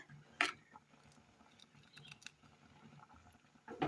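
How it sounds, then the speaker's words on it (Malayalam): Thick curry bubbling quietly in a pot, soft irregular pops and patter with a couple of louder bursts at the start and end. "കറി അങ്ങനെ നല്ലപോലെ തിളച്ച് വന്നിട്ടുണ്ട്."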